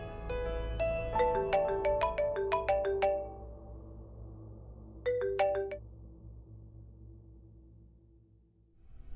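A telephone ringtone plays a bright, melodic electronic jingle of quick rising notes, then repeats a shorter burst after a pause, loud and close with no talk.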